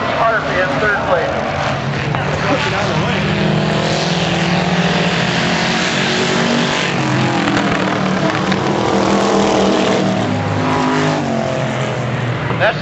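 Demolition derby cars lapping Port Angeles Speedway in 2009, a loud and continuous engine drone with rising and falling revs as the pack circles the track, under an announcer talking throughout.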